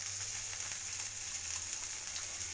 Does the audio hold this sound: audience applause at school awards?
no